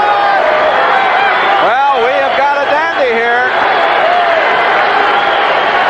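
Sellout stadium crowd at the Kingdome roars steadily through a 1981 Steelers at Seahawks NFL game, a loud, continuous wash of cheering beneath a play-by-play announcer's voice.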